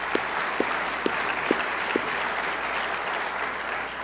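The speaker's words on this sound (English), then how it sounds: "Yes, you can clap for it." Steady applause from a church congregation fills the room, a dense even patter of many hands with a few sharper claps standing out near the start, continuing without talk.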